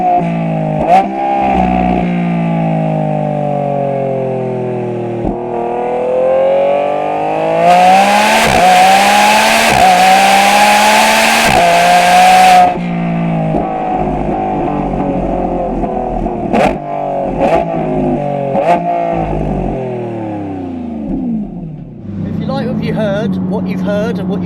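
A Lamborghini Revuelto fitted with a QuickSilver cat-back exhaust revs hard and loud, its engine note climbing and falling through repeated sweeping pulls with sharp pops between them. Someone talks over part of it.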